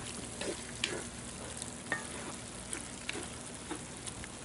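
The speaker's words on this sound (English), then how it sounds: "Put that in there. Stir it in a bit." Seafood paella in a 14-inch Lodge cast iron pan hisses with a quiet, steady sizzle while a utensil stirs, giving occasional faint scrapes and taps over the frying.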